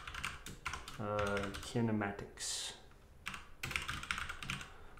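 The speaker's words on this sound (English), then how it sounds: "this keyboard's really hard to type on when you're typing." A gaming computer keyboard clatters with quick keystrokes, close and fairly quiet, while someone talks over much of the typing.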